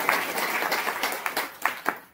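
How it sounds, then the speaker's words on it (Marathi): Scattered, fairly sparse clapping from an audience at a religious Shravan month gathering, individual claps audible as uneven bursts that thin out toward the end. "त्यासाठी जोरदार टाळी वाजवा"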